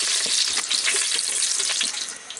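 Whole spices (three or four cardamom pods, four or five cloves, two bay leaves and a few cinnamon pieces) crackle in hot oil for letka khichuri, a loud, dense, steady sizzle with stirring throughout.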